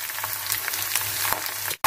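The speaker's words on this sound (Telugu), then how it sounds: "చక్కగా పల్లీలు తాలింపు అంతా వేగిందండి" Peanuts, chana dal, green chilies, curry leaves and pepper crackling in hot oil for a tempering, a steady close sizzle with small pops, stopping abruptly near the end.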